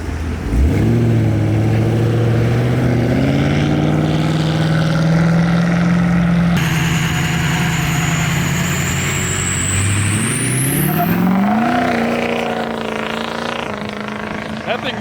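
A straight-piped Porsche GT3 accelerates hard during a ride-along, its loud engine tone climbing through the gears in rising sweeps, with people talking and cheering over it inside the car.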